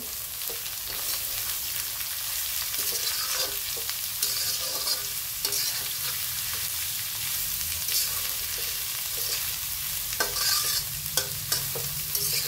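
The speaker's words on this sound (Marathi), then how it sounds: "आता कांद्याला चांगलं परतून घेऊ।" Onion sautéing in a pan, a continuous close sizzle with frequent scraping and stirring strokes throughout, no voices.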